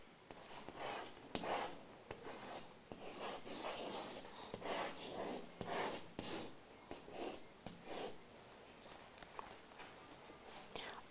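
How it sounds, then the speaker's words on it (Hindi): A Vedic mantra being handwritten: soft, scratchy strokes come in short, uneven bursts, quiet and close, with no speech. "तो मैं इस मंत्र को पहले लिखता हूँ"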